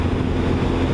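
A Honda VTR1000 SP1 motorcycle engine gives a brief, steady, loud low rumble up close, with no voices.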